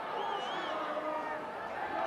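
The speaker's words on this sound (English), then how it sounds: "And the crowd settles" Large rugby league stadium crowd at a Featherstone versus Halifax Championship semi-final, a steady broad murmur of many voices settling down before a conversion kick, continuous and fairly distant throughout.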